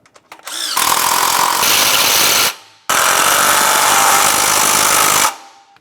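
A power tool runs loudly in two sustained bursts, about two seconds each with a short gap between, while mounting bolts for an AC bypass pulley are bottomed out on a 1994-2002 Dodge Ram 2500.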